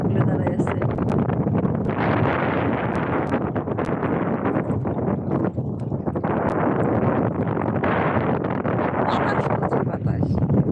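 Strong wind at a seashore buffets the microphone in loud, gusty roaring bursts throughout, with intermittent talk underneath.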